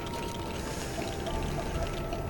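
Water pours in a LEGO video game, a steady, continuous rushing wash that fills the whole stretch at moderate loudness with no voices over it.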